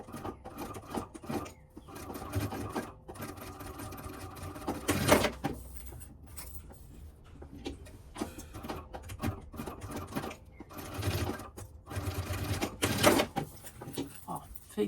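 A domestic sewing machine runs stitching fabric close to the edge of an expandable toiletry bag, a steady mechanical whir with small surges, heard under continuous talking.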